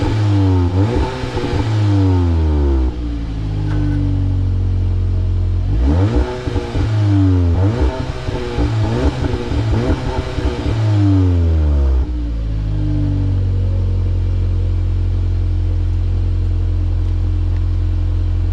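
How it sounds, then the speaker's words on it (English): A VW Golf R MK7.5 fitted with an OPF/GPF limiter in its exhaust revs up in repeated bursts, swelling and dropping back to a deep idle rumble, loud and close with no talking. "that's how it sounds when you've got an OPF, GPF limiter in your exhaust"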